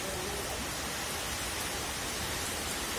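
Rain pouring down at a bus depot, a dense steady hiss that stays constant and loud throughout with no voices over it.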